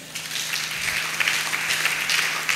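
A church congregation breaks into applause during a service, a dense, sustained wash of many hands clapping nearby, steady throughout with slight swells.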